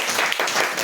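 Church congregation clapping loudly, a dense burst of many hands that carries evenly through a short moment.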